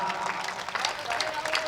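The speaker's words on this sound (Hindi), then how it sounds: "तालियां कमजोर है" Applause from an audience at a Hindi poetry recital (kavi sammelan) held by Bharat Vikas Parishad, a continuous, moderate patter of many hands filling the short stretch with a faint murmur of voices mixed in.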